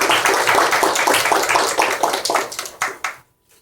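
A conference audience gives warm applause to welcome a speaker at a CSR philanthropy event. Many hands clap steadily and near, then thin out into a few last claps before silence.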